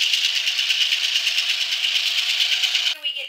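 Inside the cab of an ex-Burlington railroad locomotive, the diesel engine drones with a steady rattling, pulsing vibration, loud and close throughout before shifting abruptly near the end.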